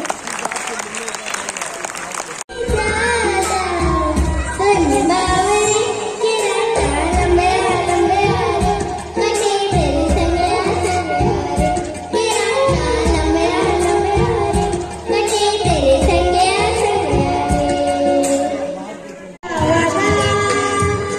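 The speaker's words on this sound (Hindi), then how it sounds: "थोड़ा जोरदार तालियां हो जाए।" Audience at a school's annual cultural and award event clapping loudly and steadily, the applause running for most of the stretch with brief pauses, mixed with music and voices.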